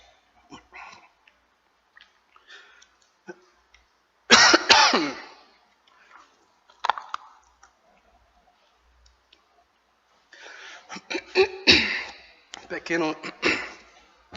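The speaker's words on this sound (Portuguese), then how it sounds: "Pequeno pigarro." A preacher with a slightly cold-affected throat gives one sharp, loud throat clearing partway through a sermon, set between stretches of his quieter speaking.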